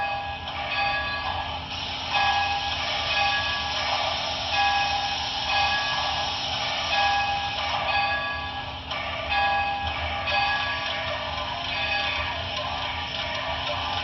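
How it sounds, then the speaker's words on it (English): A steam locomotive bell from a model train sound decoder rings in repeated, fairly even strokes over a steady mechanical chuffing and hum, continuous for the whole stretch with no talk. "So here's the bell. If you didn't hear the bell, here it is again."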